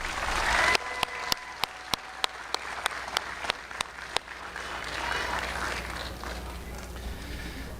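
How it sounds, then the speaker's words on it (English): Graduation crowd at a high school ceremony breaks into applause, a dense wash of clapping from a large audience at moderate distance, accompanied by a series of sharp, regularly spaced bangs during the first half. "Graduates, can we give them a round of applause?"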